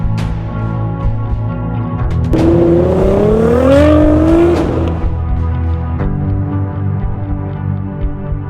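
A Razor GTR car engine idles with a steady low rumble, then revs up sharply in a rising and falling howl for a couple of seconds before settling back to idle, loud and close.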